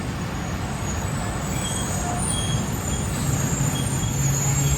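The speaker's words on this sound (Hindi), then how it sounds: "9:36 पर हमारी ट्रेन पहुंच चुकी है लानी जंक्शन रेलवे स्टेशन पर।" The Khyber Mail train rolls through Lani Junction railway station on the run from Rahim Yar Khan to Karachi. A close, continuous rail rumble runs throughout, with faint high wheel squeals.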